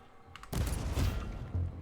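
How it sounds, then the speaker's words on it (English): A frag burst weapon fires in a video game, bursting into a loud, dense explosive rumble after a few faint clicks, with a couple of further thumping surges as it rolls on. "Let's see what this frag burst looks like."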